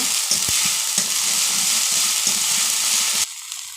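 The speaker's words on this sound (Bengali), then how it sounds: "এবার মশলাটাকে কষে নেব।" A spice paste of garlic, onion, turmeric and salt fries loudly in a pan, a dense continuous sizzle with light stirring scrapes that cuts off abruptly near the end.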